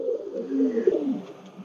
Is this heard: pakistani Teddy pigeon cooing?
yes